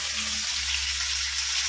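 Jilebi fish frying in oil in a pan, a steady, even hiss and sizzle close up with no talk over it.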